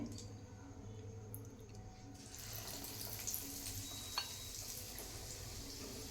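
Tomato bajji, batter-coated tomatoes, frying in oil at a street-cart style stall, a steady soft sizzle and bubbling hiss that brightens after a couple of seconds, continuous and fairly quiet with no talk.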